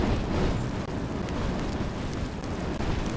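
Iron cannons firing in the space combat game Cosmoteer as enemy ships are blown apart, a dense continuous roar of rumbling blasts and crackling impacts, loud and sustained with no talk.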